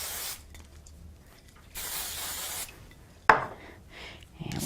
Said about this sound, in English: So I'm going to give it another quick spray.